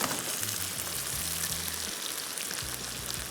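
Chicken frying in a pot on high heat, a steady dense sizzle and crackle running throughout, with a low tonal hum beneath and no talking.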